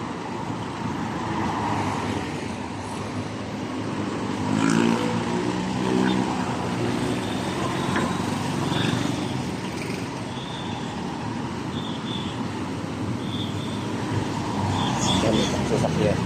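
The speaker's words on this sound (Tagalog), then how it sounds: "Pero madaming sasakyan pa," Steady road traffic at an overpass in Bangkok, many vehicles passing and rumbling continuously, with a few faint horn-like tones, and a person talking over it.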